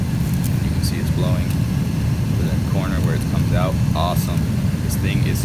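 Ford HVAC blower pushing air out through the foot vent, a steady broadband rushing whoosh that holds level throughout, with faint voice-like sounds in the background.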